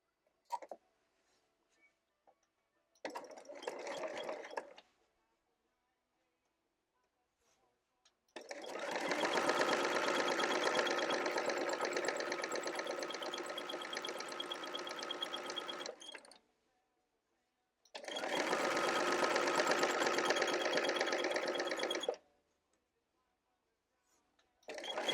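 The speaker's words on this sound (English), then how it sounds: "now we have to go back to the sewing machine again and stitch right along there to close it off" A sewing machine stitches quilt binding closed in three bursts: a short one, a long steady run of about eight seconds, and another of about four seconds, each close and even with quiet pauses between.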